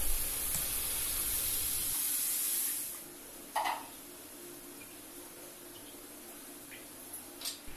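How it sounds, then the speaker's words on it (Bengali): Water poured into a hot pan of Bengali mustard curry for pabda fish gives a loud, steady hissing sizzle for about three seconds, then it settles to a quiet bubbling simmer with a few faint clinks. "এবার আমি জল দিয়ে দিচ্ছি।"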